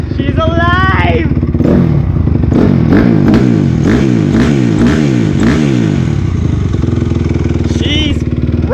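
A 2006 Honda CRF250R dirt bike engine revs hard and close, rising and falling in repeated rapid bursts before settling into a rough, loud idle.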